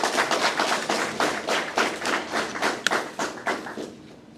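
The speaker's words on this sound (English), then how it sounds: "Give yourselves a round of applause." Applause from a seated audience at a special constable graduation ceremony, a steady patter of many hands clapping together for several seconds, close and fairly loud with a few sharper individual claps.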